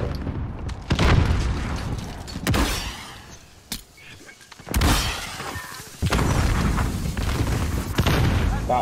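Grenade blasts in a Call of Duty Modern Warfare Search and Destroy match ring out as several sharp, loud booms with crackling tails, spaced across the stretch amid steady game noise.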